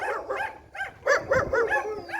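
A large dog barks repeatedly on a hiking path past Kerala-style houses on Praslin Island, Seychelles, a run of loud, close, uneven barks and yelps with no talking.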